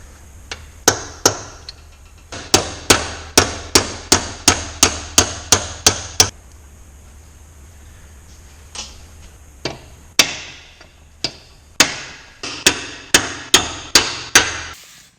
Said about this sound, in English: Let's see if we can gently hammer them apart.